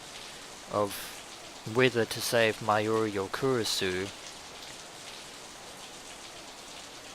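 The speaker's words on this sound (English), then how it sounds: "it was raining like this." Steady rain falls softly in the background of a Steins;Gate 0 scene, a faint continuous hiss running under a few seconds of speech and then carrying on alone.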